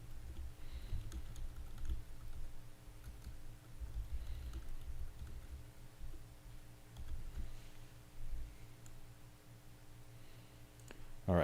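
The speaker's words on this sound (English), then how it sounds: "Hope you guys don't mind a little bit of typing ASMR once again." Typing on a computer keyboard in a newsroom: a faint, steady patter of key clicks over a low background hum, continuing alone throughout.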